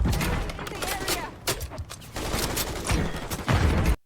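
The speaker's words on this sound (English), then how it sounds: "that reload sound sounds nice and metallically meaty as well" Metallic clacks and clatter of an AK-50 rifle reload in Call of Duty, several sharp close hits amid gunfire-like bursts, with faint game sound behind.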